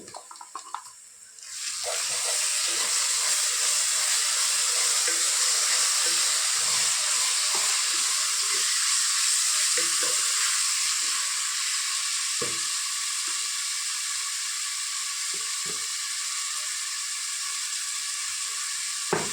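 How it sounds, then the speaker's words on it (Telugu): Tomato and cashew paste hisses and sizzles steadily in a hot pan for paneer kaju masala, a loud continuous fry that starts abruptly and holds throughout with faint stirring scrapes. "ఇప్పుడు టమాటా కాజు కలిపిన పేస్ట్ ఇది."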